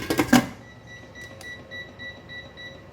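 A few quick clicks and then a faint, repeating electronic beep from a kitchen timer being set to one hour while pork rib soup cooks, with soft pulses spaced evenly and recorded close.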